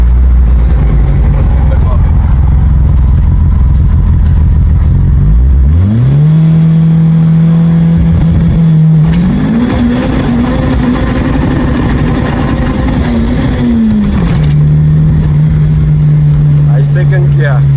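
Turbocharged 217 kW Ford Escort XR3 race car heard from inside, engine idling low then revving hard through rising pulls and a gear change, loud and continuous with voices talking over it.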